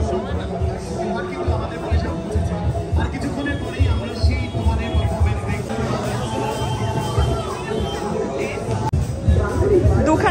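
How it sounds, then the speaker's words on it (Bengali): Dense crowd chatter fills a busy Poila Boishakh fair in Baghbazar, a loud, continuous babble of many voices close all around with no single speaker standing out. "চারিদিকে এত আওয়াজ, এত মানুষের শোরগোল"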